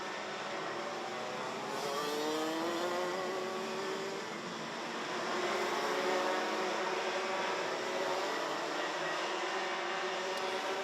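Senior racing kart engine running on the Genk track during a heat race: a steady, droning, high-revving buzz that rises and falls in pitch as it passes, with a constant wash of background noise and no talking.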